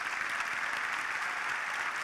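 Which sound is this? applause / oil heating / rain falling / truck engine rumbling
applause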